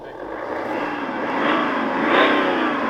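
BMW 335d diesel engine revving with no exhaust note, a steady mechanical roar that swells in two rising pushes before easing back, heard alone without voices.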